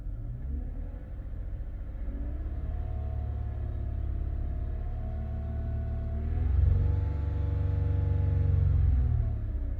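Lexus ES350 engine in a 2013–2015 car, steady low rumble that swells as the throttle is pressed, revving briefly louder around the middle before settling, with no voices.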